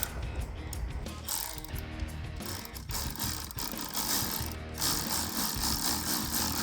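An 8mm bolt on a throttle body spacer for a 2008-2022 Dodge Challenger V8 is snugged down with a ratchet, a dense run of rapid metallic clicking close up with brief pauses between strokes.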